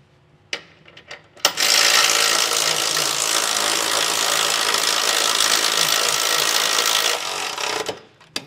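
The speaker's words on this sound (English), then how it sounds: "you can just snug them down with a 3/4 inch socket" A power tool with a 3/4 inch socket snugs down trailer hitch bolts on a 2022 Nissan Rogue, a loud continuous whirring run of about six seconds, close, framed by brief clicks and clunks.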